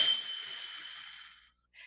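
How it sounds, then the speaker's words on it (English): A steady breathy exhale through the mouth with the tongue pressed to the roof, carrying a thin whistling tone, lasting about a second and a half before a brief faint puff of air. "it sounds a little bit of a whistling sound"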